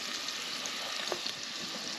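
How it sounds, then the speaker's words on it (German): Chanterelle mushrooms sizzle in a hot pan over a campfire outdoors, a steady close hiss with faint crackles and no talking. "hier werden gerade die Pfifferlinge reingeschmissen in die heiße Pfanne"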